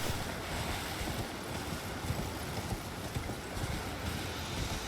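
Steady wind blows across the foggy Stormhill area in the video game Elden Ring, a dense continuous rushing roar with no pauses, fairly loud and unbroken throughout.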